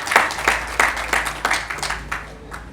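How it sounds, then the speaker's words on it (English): Applause for the chairman at the launch of the Africell Impact Foundation, heard as a fairly sparse run of distinct, rhythmic claps, roughly eight strong beats that grow softer over a few seconds. "Let's applaud."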